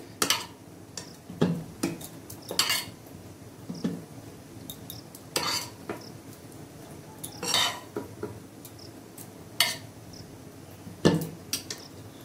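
Cooked drumstick greens transferred from a pan onto a plate in a home kitchen, with scattered clinks and scrapes of a utensil against metal and crockery, irregular and fairly close, no talking.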